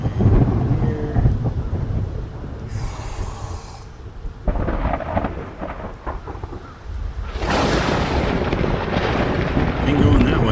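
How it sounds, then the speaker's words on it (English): A thunderstorm in the video game The Black Grimoire: Cursebreaker, with loud rolling thunder and steady heavy rain, bursts of crackling thunder rising over the downpour. "This is no natural storm."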